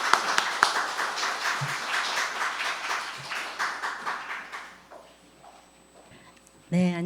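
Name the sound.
audience applause welcoming a speaker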